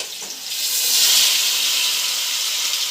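Chicken frying in hot oil in a pan while making mandi, a loud steady hiss that swells after a moment and holds, close by, with no talking.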